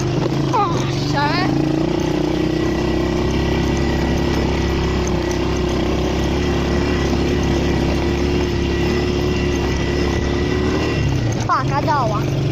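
An ATV engine drones steadily while driving off-road, a low continuous rumble with a sustained hum, and people talk briefly over it near the start and end.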